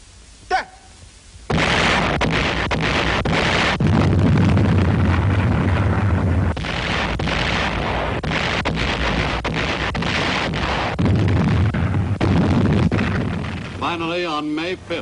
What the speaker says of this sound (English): the Japanese bombarded the island fortress with every weapon at their command